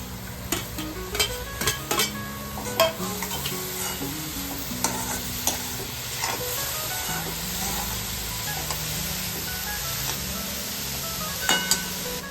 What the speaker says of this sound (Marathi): आता टाकणार टोमॅटो आणि वाटाणे